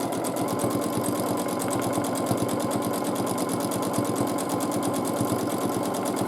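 A sewing machine quilts a border with matching green thread, running at a steady fast mechanical rhythm, close and continuous with no pauses.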